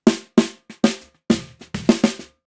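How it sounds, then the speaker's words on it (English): Snare drum heard through two phase-corrected microphones, roughly nine strikes in an uneven pattern with punchy attacks, full body and short ringing decay, alone and close. "This is the sound of the snare drum through both microphones with phase correction."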